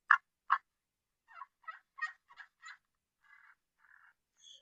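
A series of hen wild turkey yelps and clucks imitated by a hunter's caller, two sharp notes then a rhythmic run of softer yelps, ending in faint purring.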